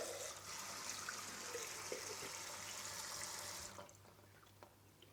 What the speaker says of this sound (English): after you've rinsed the quinoa out